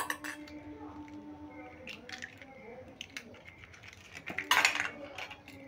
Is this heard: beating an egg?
yes